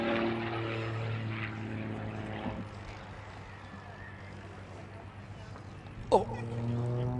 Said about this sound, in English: Gonna do the knife edge slide, sliding one way and then the other